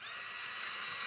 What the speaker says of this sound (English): We'll mix that with our little M12 little cordless drill.